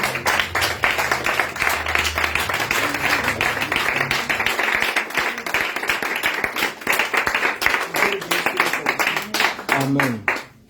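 A prayer-meeting congregation claps steadily in rhythm and applauds for Jesus, a dense, continuous wash of hand claps filling the room for over ten seconds, with faint voices and music underneath.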